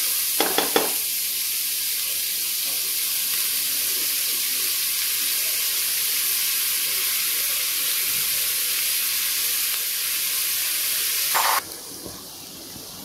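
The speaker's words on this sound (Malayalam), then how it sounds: "അത് ബ്രൗൺ കളർ ആവുന്നതുവരെ നമുക്ക് ഇളക്കി കൊടുക്കാം" Onions fry in a pan for egg biryani, giving a continuous loud, hissing sizzle, with a spoon clattering as they are stirred near the start and again toward the end.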